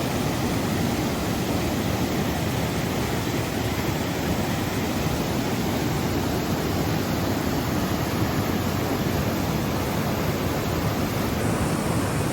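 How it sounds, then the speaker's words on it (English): Several small waterfalls in the Pacific Northwest give a steady, full rush of falling water that holds at an even level throughout, with no voices over it. "Lots of little waterfalls that you can see."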